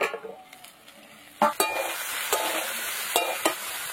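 Vegetables fry in a pan with a steady sizzle, broken by several sharp scrapes and clinks of a spatula stirring against the metal, close and fairly loud.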